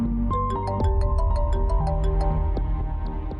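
A phone ringtone trills in a steady repeating melodic pattern, loud and close, over a continuous musical backdrop in a drama scene.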